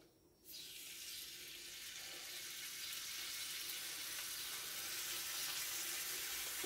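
Bacon frying in oil in a pan gives a steady, close sizzle that starts abruptly and holds a dense, even hiss throughout, with no voices.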